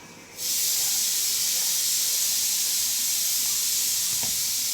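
Cabbage cooking with a fish head in a pan, giving a steady loud hiss of steam and sizzling that starts abruptly and holds, with one faint knock near the end and no talk.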